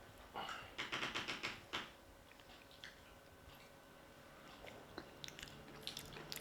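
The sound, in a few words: biting and chewing a crunchy vegan snack with nuts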